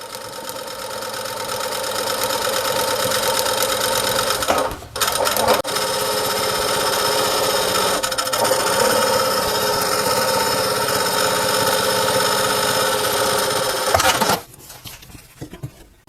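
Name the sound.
sewing machine stitching along the seam of a welding cap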